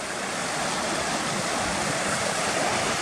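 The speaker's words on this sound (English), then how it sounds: "you've got all this fast moving water cascading down" Fast-moving water cascades down a valley in a steady, dense, full rush that stays constant throughout, with no talking.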